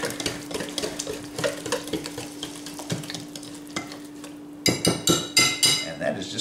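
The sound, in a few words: whisking a mixture in a bowl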